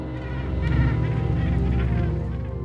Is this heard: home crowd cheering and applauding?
no